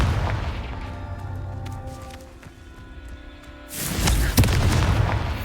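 Confringo fire spell in Hogwarts Legacy bursting into a loud, booming explosion partway through, after a quieter stretch of ambient game music and effects.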